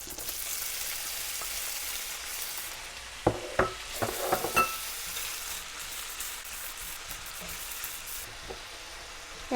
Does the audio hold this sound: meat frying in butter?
yes